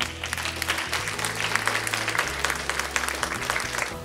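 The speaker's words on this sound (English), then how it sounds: "I want you to just kind of clap" Participants at a joy workshop clap together in a busy, continuous patter, with low sustained music playing underneath.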